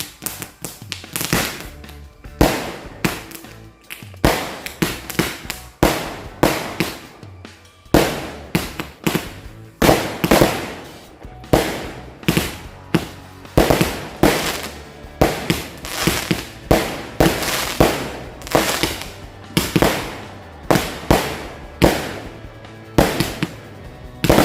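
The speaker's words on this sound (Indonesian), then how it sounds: "kita sumet mercon Roman Candle sekaligus 4 buah." Four Roman candle fireworks fire together at night during Ramadan. Sharp pops and bursts repeat rapidly and unevenly over about twenty-five seconds, loud and close, with no talking.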